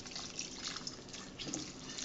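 Water stirred into a village-style Andhra raw banana and dried prawn gravy curry, producing quiet close sloshing and dripping liquid sounds, soft and continuous with no voices.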